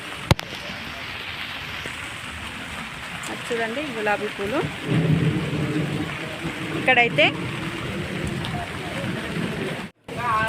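Steady rain patters and hisses all around while a person talks nearby; no thunder stands out.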